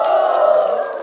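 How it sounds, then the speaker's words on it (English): Stand-up comedy audience cheering and whooping in a loud, sustained crowd roar that fades slightly at the end. "Women above the age of 30, give me a cheer."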